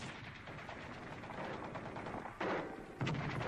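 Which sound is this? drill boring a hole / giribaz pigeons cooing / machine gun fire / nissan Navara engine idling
machine gun fire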